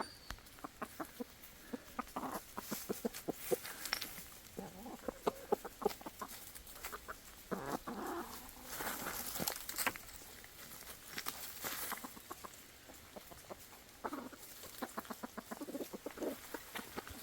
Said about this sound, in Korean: 닭들이 오랜만에 나와서